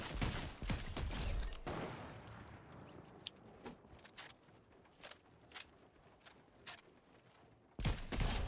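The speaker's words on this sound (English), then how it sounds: "There's some shooting." Gunfire in the video game Fortnite, starting with a dense burst of shots that fades into scattered single cracks and distant pops, then a sharp loud return near the end, with no talk.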